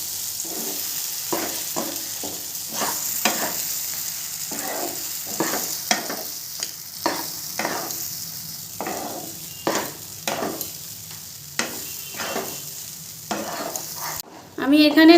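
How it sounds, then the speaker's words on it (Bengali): Lentil paste is stirred in a non-stick kadai over low heat. A spatula makes repeated, irregular scraping strokes over a soft sizzle, close up, ending in a louder clatter of metal. "ভালো করে কড়াইয়ের মধ্যে ঘেটে নেব।"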